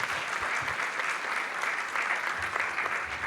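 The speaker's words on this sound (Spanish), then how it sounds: "un gran aplauso para este gran panel" An audience at an economy forum panel applauds, a dense, continuous clapping from a crowd that holds steady throughout without speech.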